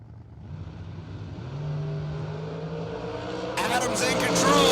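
Dragster at an outlaw drag race, an engine revving and climbing in pitch over a few seconds, then a sudden harsh blast as it launches, with an announcer talking over it.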